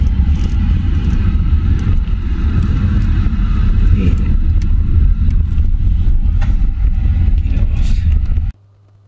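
A car rolls along an Alberta highway, its steady loud road rumble and engine drone filling the cab nearly unchanged until the sound cuts off abruptly near the end.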